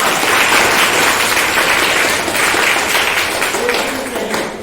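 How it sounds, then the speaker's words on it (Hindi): Eighth-standard students clap loudly in a classroom after singing a Hindi prayer poem, a dense, energetic burst of many hands that holds steady, softens briefly midway and fades toward the close, with faint voices underneath. "आप लोगों के लिए आप ही से जोरदार तालियां।"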